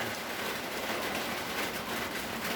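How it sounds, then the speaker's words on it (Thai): Steady rain falls in a dense, even hiss with no breaks, close and moderately loud, while no one speaks. "ฝนตกพี่น้องมาค่ะ"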